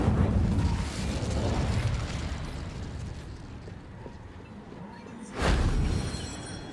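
A roaring fire blast from the Incendio spell in Hogwarts Legacy, with a rumbling burst at the start, a sustained whoosh, and a second sharp flare late in the clip.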